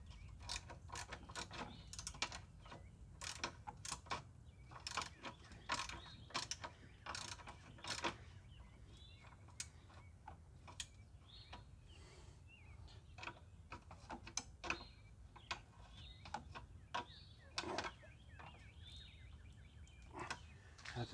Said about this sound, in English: I'm gonna have to probably use my ratcheting wrench to